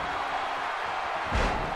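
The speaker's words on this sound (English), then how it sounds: "Slams him down" A wrestler is slammed down onto the ring mat during a tag team match, producing one heavy thud near the end over a constant roar of arena crowd noise.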